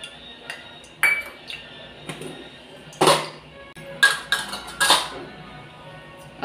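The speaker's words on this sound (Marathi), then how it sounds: "मी गॅसवरती कढई ठेवलेली आहे" A kadhai set on a gas stove, with several sharp metallic clanks and clinks of the pan and utensils knocking against the burner, separated by short pauses, close and fairly loud.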